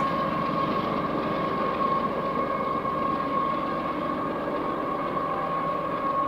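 A freight train's distributed-power locomotive pushes backwards in notch 8, producing a loud, steady engine drone with a constant tonal hum and no pauses.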